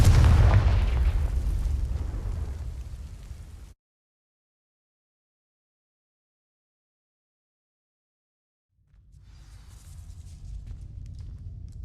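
A Confringo fire spell ignites dry vines in Hogwarts Legacy, a loud booming burst that fades over a few seconds, then near silence before a low rumbling crackle returns.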